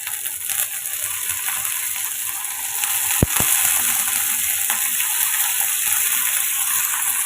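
Cut pumpkin pieces go into a hot pan and fry with a steady, loud sizzle, a brief clatter as they drop, then continuous frying hiss with no talking.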